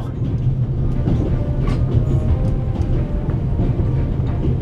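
A train in the video game The Raven rolls along its rails with a low, steady rumble and faint rhythmic clatter, continuous and fairly close, with no voices heard.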